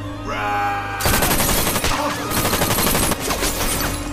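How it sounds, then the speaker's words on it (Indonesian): A sudden burst of rapid automatic gunfire erupts in a film scene, loud and continuous for about three seconds before a short break and a few more shots. "Luke tiba-tiba muncul dan langsung memberondongkan peluru ke arah Red."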